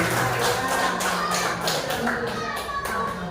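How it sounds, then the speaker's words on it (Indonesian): Classroom clapping at a school session, with brisk hand claps in a steady rhythmic pattern, fairly close and loud, mixed with children's voices in the background. "Bisa kasih tepuk tangan dulu baru ini."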